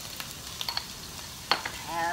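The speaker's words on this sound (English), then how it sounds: "So I have half a chopped sweet onion. Listen to that sizzle." Half a chopped sweet onion sizzles in a pan, a soft steady hiss broken by a few sharp crackles and stirring clicks, heard up close without talk.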